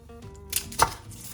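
Knife chopping mini zucchini on a cutting board, a few sharp cuts landing close by over faint background noise, with no talking.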